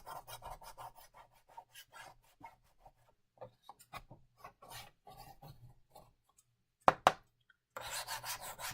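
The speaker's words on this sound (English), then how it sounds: "it helps just scrape and loosen that paste" A hard plastic tool with a beveled edge scrapes and loosens paste on a board, giving soft raspy rubbing strokes in irregular bursts, with a couple of sharper knocks and a steady scraping run near the end.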